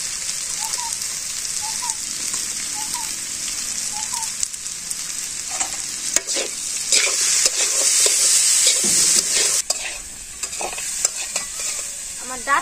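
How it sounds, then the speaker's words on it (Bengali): Vegetable stalks and potatoes frying with lentil powder and chili in a village kitchen, a close, loud crackling sizzle with frequent stirring scrapes and clinks throughout, no talking. "আমার ডাটা আর আলু ভাজা হয়ে গেছে"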